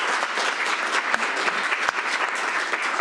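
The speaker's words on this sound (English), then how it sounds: "Round of applause for Amber." Audience applause at a board of education study session, a steady wash of clapping hands filling a meeting room, fairly loud and sustained throughout with no talk over it.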